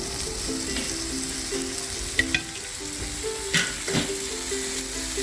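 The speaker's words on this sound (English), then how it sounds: "It just won't stop sizzling." Steady, continuous sizzling of food frying on a hot Himalayan salt block, with a low hum in the background and a couple of brief clicks and scrapes.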